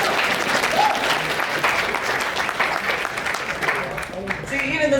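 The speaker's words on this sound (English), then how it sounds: "Give them a hand of applause." Audience applause for first-time attendees at a fan convention, steady clapping across the room with a few voices and cheers mixed in, thinning slightly toward the end.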